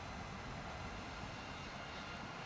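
Merlin engine of a P-51 fighter plane in a video game, a steady broadband roar heard alone, even and unbroken throughout.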